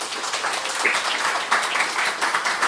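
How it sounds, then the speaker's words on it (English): Audience applause after a talk on addiction, a dense steady patter of many hands clapping at moderate distance, sustained without talking throughout. "Everybody, round of applause for Rabbi Bresinger."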